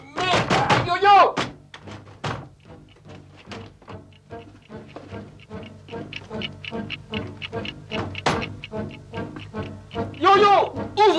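A door is banged on hard again and again in a long, rapid run of heavy knocks lasting several seconds, with loud shouting voices at the start and end.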